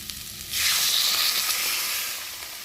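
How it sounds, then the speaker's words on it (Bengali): Water hits fried spice masala in a hot pan and sets off a loud, close sizzle. It swells within a second, holds as a steady hiss, then eases slightly, with no voices. "আর এখন আমি দিয়ে দেবো পরিমাণ মতো জল"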